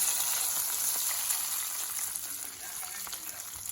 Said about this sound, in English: So here I am adding this hot oil in this.